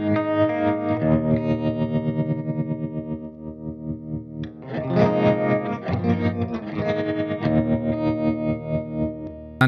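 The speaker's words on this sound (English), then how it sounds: "Here's how the Gravitas sounds." Guitar run through a Gravitas effects pedal, distorted, chorused sustained chords and notes ringing out loud and alone, with a brief pause before a fuller strummed section.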